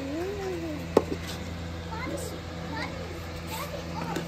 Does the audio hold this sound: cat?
yes